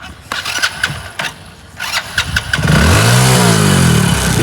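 A motorcycle engine is cranked with a few sharp clicks and knocks, then fires and settles into a loud, close idle with revs that swell and dip.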